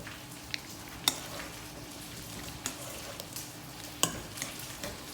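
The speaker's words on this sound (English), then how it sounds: "I'm just going to mix in" Hot potatoes are stirred and mixed in a bowl with soft, continuous scraping under a faint hiss, broken by a few sharp utensil clicks against the bowl; quiet and close, with no speech.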